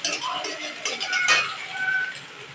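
A spatula clinks and scrapes against a pan as cracked egg is stirred into leftover rice, with a steady run of close, bright metallic taps and scrapes.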